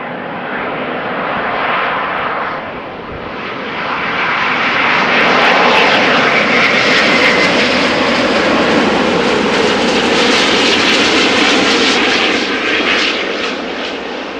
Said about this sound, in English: So listen to the thrust being reverse thrust being applied.